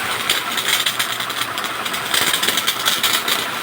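A small petrol power sprayer engine runs steadily at close range while used for cleaning animal pens, a continuous buzzing drone with hissing spray and no voices.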